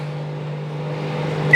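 A microwave oven hums steadily while softening butter, a constant low drone filling the short stretch before a faint high electronic tone appears near the end.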